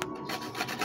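A mango rubbed by hand against a grater, giving a quick series of close, dry rasping strokes in a steady back-and-forth rhythm.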